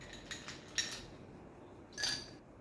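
Ice cubes drop into a glass prepared with lemon slices and mint for masala Coke, a few sharp close clinks spread over a couple of seconds with quiet between them.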